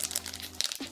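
Cellophane wrapper crinkling as a Paco Rabanne Pure XS perfume box is opened, a close, crisp rustle with quick crackling bursts and a final sharper crinkle.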